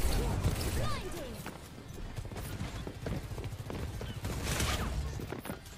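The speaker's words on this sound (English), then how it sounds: "She's shooting me with a gun." Rapid gunfire from a competitive shooter video game, crackling in quick bursts alongside other game effects under steady player chatter.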